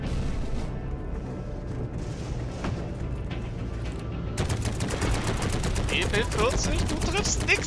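Gunfire in the World War II shooter game Heroes & Generals: scattered shots at first, then a long, loud burst of rapid machine-gun fire with dense, rhythmic cracks over rumbling battle noise.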